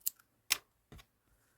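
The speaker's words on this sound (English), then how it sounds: "I'm going to snip it" Scissors snip crochet yarn with three quick, crisp cuts spaced across a second and a half, close and clear against near silence.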